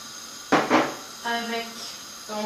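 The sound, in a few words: palm oil poured into a hot pan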